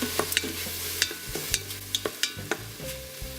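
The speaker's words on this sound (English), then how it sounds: "So let's saute the onions and let it cook for 2 minutes" Two chopped, salted onions sizzle steadily in a pan, with a utensil stirring and scraping in quick irregular clicks over the continuous frying hiss.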